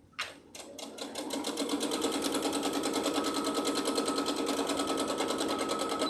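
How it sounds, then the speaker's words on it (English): A sewing machine stitches a seam along quilt backing fabric, starting with a few separate stitches and then running at a fast, even rhythmic chatter, close and clear. "a 1/2 inch from that is where I'm sewing to get the seam"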